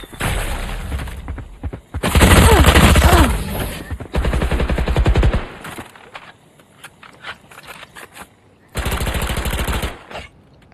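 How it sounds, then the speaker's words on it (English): Rapid automatic gunfire in VALORANT comes in loud, dense bursts, separated by quieter gaps with single shots and clatter. "後ろから撃たれる。"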